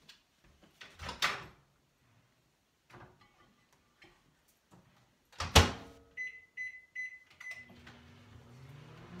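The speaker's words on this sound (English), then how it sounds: "I'm just going to put it in the microwave" A microwave oven door clicks and thumps open and shut in a quiet kitchen, a couple of sharp close knocks followed by a few short electronic beeps and a low hum starting up.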